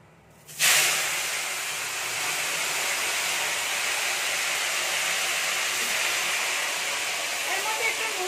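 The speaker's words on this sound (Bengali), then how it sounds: "এরকম এবার আমি ফুলকপিগুলো ভেজে নিচ্ছি।" Cauliflower pieces hit hot oil with a sudden hiss that settles into a loud, steady frying sizzle close by for several seconds.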